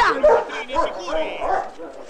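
Dogs in a film scene, presumably at a dog fighting or betting event, giving short barks and yips under ongoing speech and crowd noise close by.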